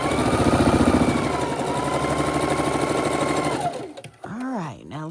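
A sewing machine stitches quilt seams in a fast, close, rhythmic whir that runs steadily and then stops, followed by a voice speaking.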